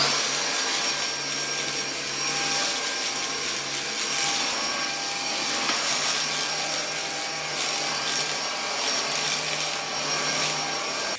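Jimmy H10 Flex cordless vacuum cleaner fitted with a small sofa brush, a steady loud high-pitched whine with airflow hiss running continuously up close, no talking.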